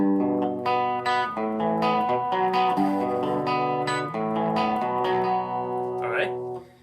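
Distorted electric guitar strums a song's chorus chord progression, sustained and heavily effected with chorus shimmer and reverb, loud and continuous with no voice.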